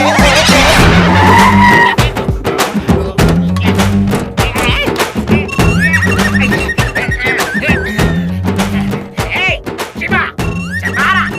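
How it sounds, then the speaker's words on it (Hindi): A jeep skids with loud, close tire squeals and thunks in a comedy film scene, mixed with music and bursts of sound effects throughout, with occasional voices under the din. "क्या ये जीप है।"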